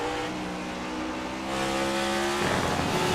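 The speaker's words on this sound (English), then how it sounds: "You hear him shift again, staying in 4th" Stock race car in iRacing at Sonoma, engine holding a steady buzzing pitch, then rising in loudness and pitch before a distinct gear shift drops the tone near the end.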